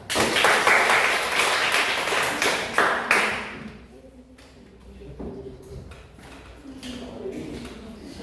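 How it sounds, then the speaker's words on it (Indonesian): Audience applause for group 3 in a classroom learning session, a burst of many hands clapping for about three seconds that then fades into quiet room noise and soft voices. "Ya, berikan aplaus kepada kelompok 3."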